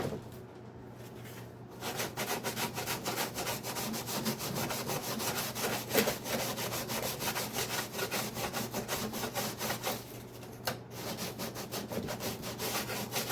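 Sandpaper rubs across the wood of a Sig Somethin Extra twin model airplane in quick, steady back-and-forth strokes, close and alone, with a short pause near the end.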